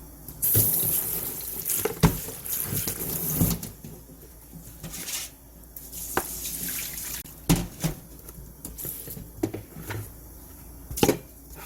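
Cabbage is washed under a running kitchen sink tap, with a steady stream of water broken by repeated close splashes, sloshes and knocks as the leaves are rinsed. Nobody speaks.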